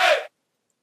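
A deep vocal chant sample at its original pitch, heard once as a single short, full-bodied syllable that stops abruptly, followed by silence.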